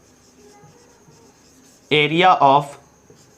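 Pen writing on paper during a maths lesson, a faint, soft scratching that runs quietly in the background before a voice briefly speaks over it.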